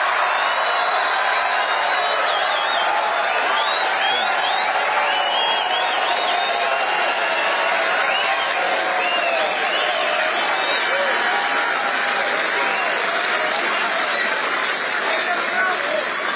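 Large crowd at a Kitchener political event for Poilievre, sustained dense applause and cheering filling the whole stretch, loud and continuous, with voices mixed in.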